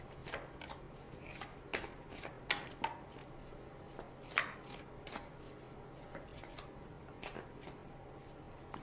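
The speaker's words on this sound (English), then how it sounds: "So now I'm going to choose 2 cards for predictable or possible outcomes" Tarot cards handled and drawn at a reading, a quiet run of crisp flicks, slides and taps, scattered irregularly and heard close up.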